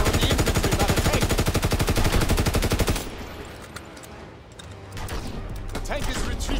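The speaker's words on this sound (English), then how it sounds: "They fire on the infantry by the tank." Tank gunfire aimed at infantry in the World War II shooter Call of Duty: WWII opens with a loud, rapid, evenly spaced burst of automatic fire lasting a few seconds. It then drops to quieter scattered battle noise with occasional sharp reports.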